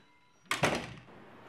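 A door shuts as people head out, giving one close, sharp thud with a short rattle that quickly fades into a quiet room.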